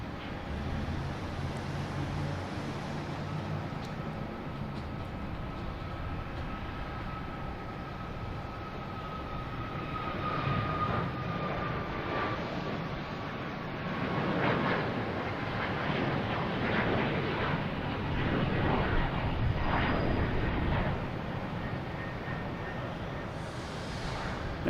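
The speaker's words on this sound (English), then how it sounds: "Here he goes, the first one taking off here. This is United Airlines heading to Newark." A United Airlines jet takes off at Boston Logan Airport, a faint, distant broad roar that builds gradually and holds over steady outdoor wind noise.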